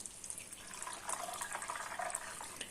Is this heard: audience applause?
no